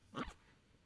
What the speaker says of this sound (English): Shut that dog up, sorry, Kevin.